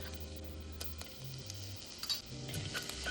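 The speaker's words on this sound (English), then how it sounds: "And just saute that a little." Garlic sizzles gently in melted butter in a pot, a soft steady frying hiss with a few light clinks, partly masked by louder background music.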